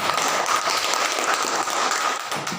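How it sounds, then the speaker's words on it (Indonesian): Students in a classroom clap for a discussion group after its presentation, a brief, steady patter of many hands that fills the room throughout. "tepuk tangan untuk kelompok 3"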